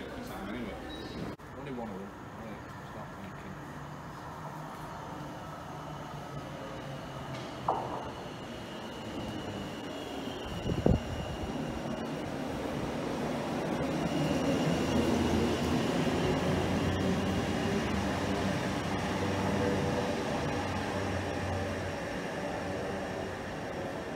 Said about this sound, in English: Here comes our train for Doncaster